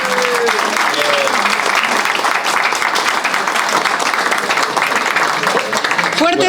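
Strong audience applause at a tango concert, thick continuous clapping from a large crowd, with a few brief voices rising through it.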